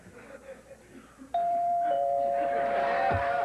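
A doorbell on a late-night television show sounds suddenly after faint background murmur, a loud sustained ringing tone that carries on to the end, with people talking briefly underneath.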